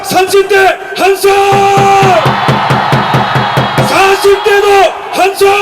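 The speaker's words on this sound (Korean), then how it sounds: "30대 함성!" Thousands gathered at a Daegu political rally yell and cheer together in a loud sustained burst over pulsing rhythmic claps, while an amplified voice speaks at the start and end.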